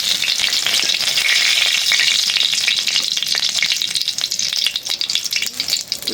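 Eggplant, bay leaf and spices frying in hot oil in a home kitchen pan, a loud continuous hissing sizzle close by, with stirring scrapes and rattles growing more uneven toward the end.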